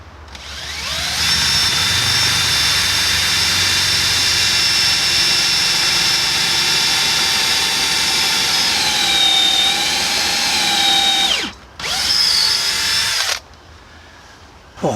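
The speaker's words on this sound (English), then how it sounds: "That's a high-speed steel drill bit anyway, not really the right thing" A power drill with a high-speed steel bit bores steadily at a loud, whining pitch, dips briefly near the end, then spins up again before stopping.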